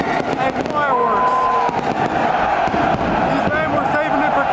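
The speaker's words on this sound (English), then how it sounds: "And we have kickoff and fireworks." Fireworks and firecrackers go off at kickoff inside De Kuip stadium during a KNVB Beker final, with dense repeated bangs and crackles under a roaring, chanting crowd throughout, loud and close.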